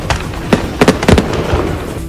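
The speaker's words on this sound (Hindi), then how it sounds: "इसके बाद तो धमाकों की ऐसी झड़ी लगी कि जश्न में डूबे लोगों के रोंगटे खड़े हो गए।" Fireworks loaded in a burning truck go off in a rapid string of loud, sharp cracks and bangs, close and dense, with no voices heard.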